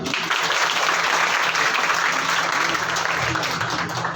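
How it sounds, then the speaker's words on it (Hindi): A group of young camp participants clapping for themselves at a youth personality development camp, dense sustained applause close by that fills the whole stretch at steady loudness. "चलो अपने लिए ताली बजाइए।"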